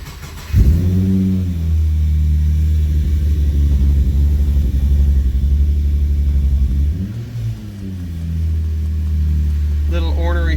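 A Subaru Impreza fitted with an H6 engine cranks and catches abruptly, then settles into a loud, close, steady idle with a brief dip and recovery near the end, with a voice speaking over it.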